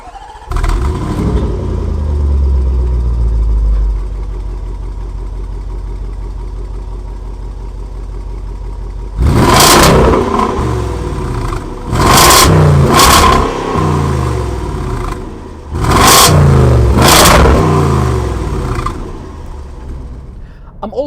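A 2018 Range Rover Sport SVR engine rumbles steadily at idle, then lets out several loud, short revving bursts in quick succession.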